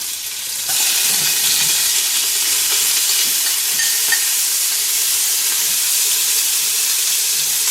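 Garlic, ginger and chopped green chilies hit hot corn oil with a sudden loud sizzle, then keep hissing and spitting steadily in the pan without pause.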